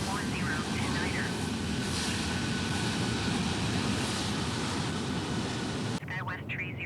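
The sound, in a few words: airliner landing in Microsoft Flight Simulator 2020, video game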